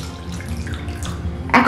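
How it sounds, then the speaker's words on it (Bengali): Water poured into a large bowl of hot semolina mixture, a close, steady trickle that ends in a brief splash. "এখন আমি এর মধ্যে দিয়ে দিচ্ছি বেশ কিছুটা জল।"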